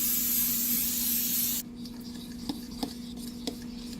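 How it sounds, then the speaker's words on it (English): A steady, loud spray of cooking oil onto a waffle maker hisses for about a second and a half, then cuts off abruptly, followed by a quiet hum and a few faint clicks. "First I'll give it a spray."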